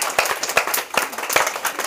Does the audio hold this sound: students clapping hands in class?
yes